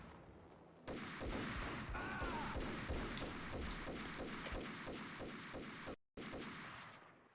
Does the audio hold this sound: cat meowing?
no